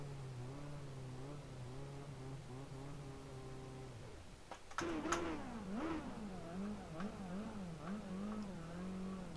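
A simulated IndyCar engine idling and running at Phoenix in the racing game iRacing, with a steady low drone that dips briefly and then rises into wavering revs, heard alone.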